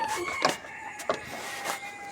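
A rooster and a hen in a backyard aviary make a few short, fairly faint calls and clucks, spaced across a couple of seconds against a quiet background.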